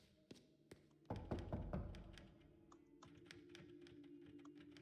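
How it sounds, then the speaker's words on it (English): Typewriter keys in the video game Lorelei and the Laser Eyes give a few sharp clacks, then a heavier thumping burst and a steady run of quieter taps, all close and moderately loud, with no speech. "This was a typewriter."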